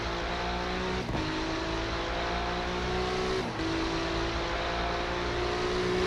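Race car engines at Spa in the iRacing sim roar steadily and loudly throughout, with pitch climbing through the gears and brief dips at two shifts.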